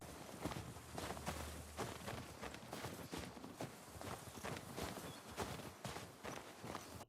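Horses walk through snow in The Last of Us Part II, with a steady stream of soft, crunching hoof and foot impacts over a dense outdoor ambience, at even loudness throughout.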